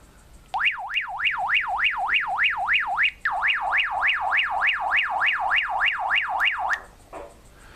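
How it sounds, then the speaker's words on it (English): A shrill electronic warbling alarm tone from a Baofeng UV-5R two-way radio sweeps rapidly up and down in a fast repeating cycle, loud and close, with a brief gap midway before it resumes. "alarm mode tone"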